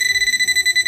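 A Quest XPointer metal detecting pinpointer sounds its alert over metal, a loud, piercing electronic tone that pulses rapidly and evenly, heard close up without talking.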